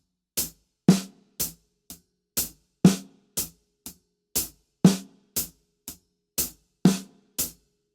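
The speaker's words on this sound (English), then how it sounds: "Up on the hi-hat, down on the hi-hat, and then you're going to raise it and do another down strike on the snare drum" A steady drum pattern alternating crisp hi-hat strikes with heavier snare hits played by the right hand, each stroke short and dry, evenly spaced and heard alone with no talking.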